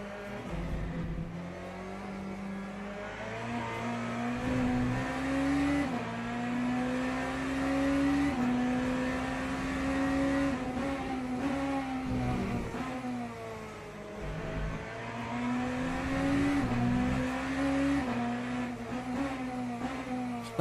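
Ferrari race car engine in a racing video game, a steady loud drone rising and falling in pitch with throttle and gear changes across the whole stretch, with no one speaking.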